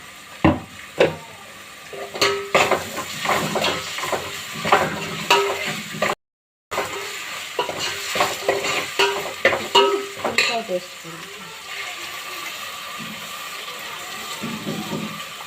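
Ginger garlic paste fries in a hot pan for a curry, with crackling sizzle and busy stirring scrapes and taps close by, pausing briefly midway, then settling into a softer, steadier sizzle without speech.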